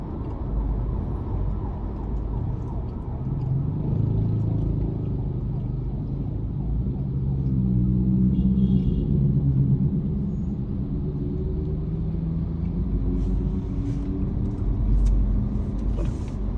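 Steady low road rumble of traffic heard from inside the cab of a Ford Ranger Wildtrak 4x2 automatic pickup, a continuous muffled drone with slight swells and no distinct passes.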